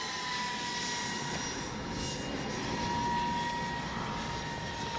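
An X-Fly J-65 twin RC jet makes a touch and go, a steady turbine whine and rushing roar at moderate distance, with no voices over it.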